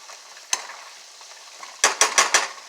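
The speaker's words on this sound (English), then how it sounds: "so just let that saute up a little bit" Vegetables for cornbread dressing sauté in a pan, with a soft background sizzle broken by one sharp stirring scrape and then a quick cluster of spoon strokes, close-up and without speech.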